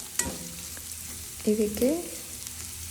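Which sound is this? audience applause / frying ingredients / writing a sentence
frying ingredients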